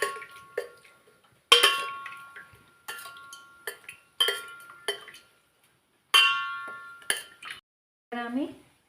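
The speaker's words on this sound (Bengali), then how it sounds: "আমি একটু ভালো করে রসটা মাখিয়ে দিয়েছি।" A spoon clinks sharply against a pot while gulab jamun are coated in sugar syrup, producing a dozen or so bright, irregular taps separated by short silences, close and clear.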